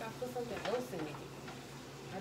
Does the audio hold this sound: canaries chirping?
no